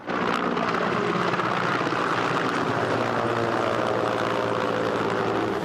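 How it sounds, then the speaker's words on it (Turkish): Firefighting helicopters fly over a forest fire near an Antalya cove, their rotors and engines making a loud, steady, continuous drone that fills the whole stretch with no voices. "Şu helikopterler de su alıyor şu anda."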